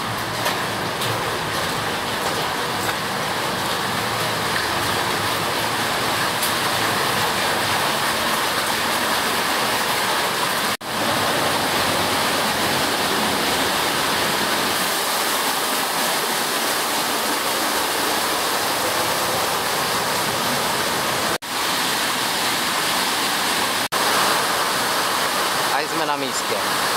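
A powerful waterfall roars in a gorge on Madeira, a loud, steady, unbroken wash of rushing water that fills the scene from near by for the whole stretch.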